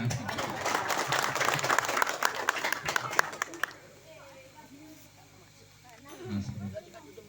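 At an Islamic religious sermon gathering, the crowd claps for about four seconds, a busy patter of hands that then fades into quieter murmuring and a speaking voice.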